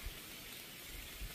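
Steady rain falls in a forest, a soft even hiss of drops on leaves and ground with faint low thumps, close and continuous, no voices.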